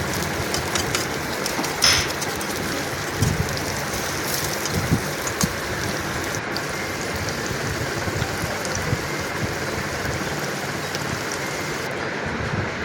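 Sliced onions sizzle in hot oil for chicken dum biryani, a dense, steady crackle and hiss that holds with scattered pops throughout.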